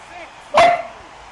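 A single sharp bark from a pet dog, close and loud, cutting briefly through a quiet room.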